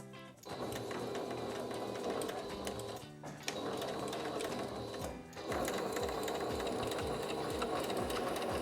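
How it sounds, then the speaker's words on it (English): Sewing machine stitches the side seam of a side-pleat skirt in a steady fast whir, close and continuous, broken by two brief pauses. "We're just going to go ahead and sew the side seam of the skirt all the way down using that valley as our guide for stitching."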